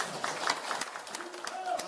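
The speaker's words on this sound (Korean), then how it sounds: "박수 한번 주세요" A crowd at a veterans' association political event gives a round of applause, scattered claps under ongoing voices and room chatter.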